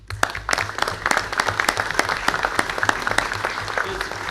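Audience applause fills a city council meeting in Belleville, a dense, steady patter of many hands clapping close by for several seconds.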